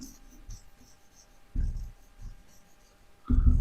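Chalk or marker strokes writing a word on a classroom board, a few short scratchy bursts separated by quiet pauses, close and fairly soft.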